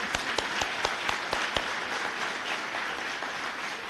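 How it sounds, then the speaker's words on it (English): Applause from a civic audience at the Cupertino State of the City address, a moderately loud spread of many hands clapping with a few sharp individual claps standing out early, holding steady for several seconds. "Give them a round of applause."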